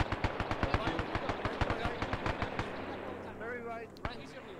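Gunfire in a World War II Battle of Tarawa combat video game: a rapid run of sharp, evenly spaced automatic shots rattles off, then stops, leaving rumbling battle noise and a single later shot, with voices talking over it.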